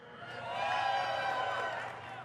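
BlizzCon audience at a Hearthstone Q&A giving a brief cheer that swells and fades over about two seconds, a diffuse roar of voices heard from a distance.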